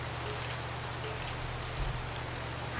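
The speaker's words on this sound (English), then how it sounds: "It's raining outside." Rain falls in the Minecraft video game as a soft, steady, even hiss of drops with a low background hum throughout.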